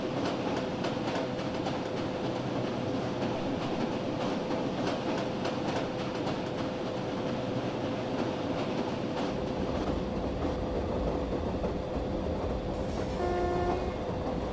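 Karnataka Express train running, a continuous loud rumble of wheels and carriage rattle heard from on board, with a steady tone throughout and a horn sounding near the end.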